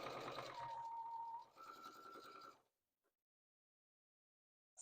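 A home sewing machine that is playing up stitches fabric for bunting, giving a steady whirring buzz for about two and a half seconds before cutting out into near silence.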